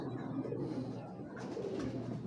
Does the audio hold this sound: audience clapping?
no